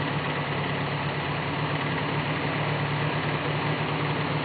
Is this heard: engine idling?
yes